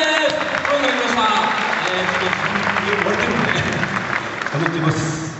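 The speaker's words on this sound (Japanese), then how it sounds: "大きな拍手で参りましょう。" An audience at a small Japanese live music night applauds a performer being brought on, a full, steady clapping that runs throughout with a voice speaking over it.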